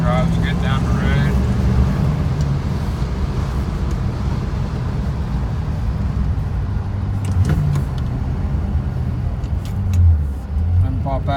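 A 1965 Corvette coupe cruises down a road, its engine droning steadily with rumbling road and tire noise throughout, shifting slightly near the end, while people talk briefly inside the car.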